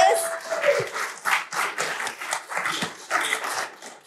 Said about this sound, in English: So can we just start with a big round of applause for these powerhouses?